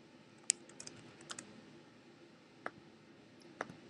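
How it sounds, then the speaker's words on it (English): Keys on a computer keyboard being typed, a handful of light, sparse clicks spread out, faint and close, with no talking. "So you can double click here and type in your topic."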